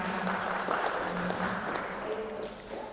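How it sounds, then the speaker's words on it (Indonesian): An audience at a church gathering applauds in a steady, dense patter of clapping that holds at an even level for about three seconds and eases off slightly near the end. "Kita boleh tepuk tangan sekali lagi."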